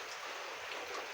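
Steady rain falling outside a house at night, a constant close hiss of drops on surfaces with no pauses and no voices.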